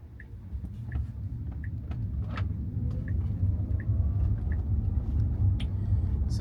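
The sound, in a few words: Tesla Model Y driving on FSD Supervised 12.5.1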